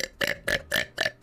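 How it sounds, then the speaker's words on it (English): A young woman lets out a rapid string of five or six short, punchy burps in quick, even succession, close and fairly quiet, with no talking over them. "I can machine gun burp. I can burp like really that fast."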